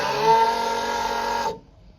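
The electric fuel pump of a 1993 Ford XG Falcon police panel van whirs with a steady mechanical hum, fuel returning through the line, running for about a second and a half before cutting off abruptly.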